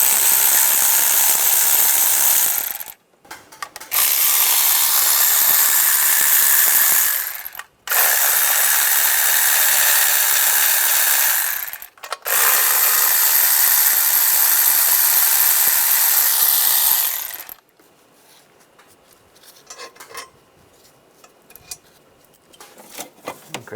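A ratchet removes a nut on a 1996–2002 Toyota 4Runner engine. Loud, rapid clicking runs in four long bursts separated by short pauses, and quieter scattered handling clicks follow at the end.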